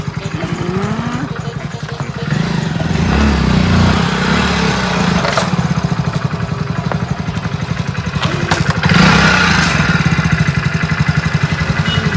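A motorcycle engine runs steadily nearby, loud and continuous with a rough, clattering low rumble that swells slightly near the end; no one speaks over it.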